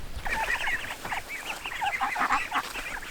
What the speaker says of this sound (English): Not only do I have ducks, I have 13 ducks.